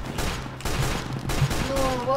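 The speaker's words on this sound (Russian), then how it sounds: "ты стреляешь двумя пушками" Twin airship cannons on a zeppelin fire in the Roblox game Zeppelin Wars, a dense run of booming shots over a steady engine drone, with players talking under the gunfire.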